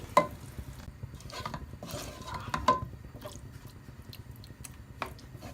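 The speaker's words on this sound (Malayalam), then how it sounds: "ഈ പേസ്റ്റിൻ്റെ കൂടെ നന്നായിട്ടൊന്ന് മിക്സ് ആവുന്ന രീതിയിൽ ഇളക്കി കൊടുക്കുക." Marinated chicken being stirred into masala paste in a pan for Hyderabadi chicken masala: soft, close squishing and scraping strokes at an uneven pace, with a few sharper clinks of the spoon, and no talking.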